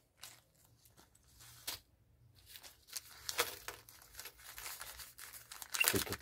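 A small plastic bag rustles and crinkles in irregular close bursts as electronic scrap parts, connectors and contacts, are pulled out of it, growing louder toward the end.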